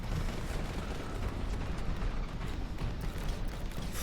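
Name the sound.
melter gun firing in video game Boltgun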